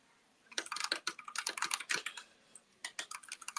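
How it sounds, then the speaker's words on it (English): Rapid clattering keystrokes on a computer keyboard, typed in quick bursts with a short pause midway, close and clear with no voices. "I'm also typing."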